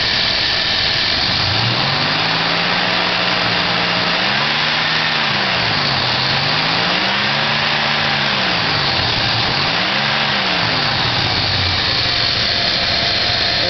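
A carbureted 318 engine idles with its air filter removed, the note loud and close, wavering up and down in slow surges as the revs rise and dip.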